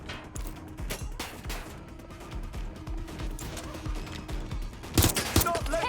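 Gunfire during a street fight in the video game Watch Dogs Legion, set in London: rapid bursts of shots and impacts crackle steadily, growing louder toward the end, with voices calling out over the shooting.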